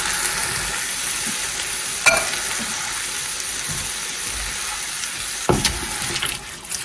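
A spoon stirring a pot of chili with tomato sauce and diced tomatoes, a wet continuous sizzle broken by two sharp scraping clanks against the pot, close and fairly loud with no talk.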